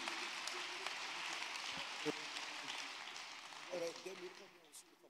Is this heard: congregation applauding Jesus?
yes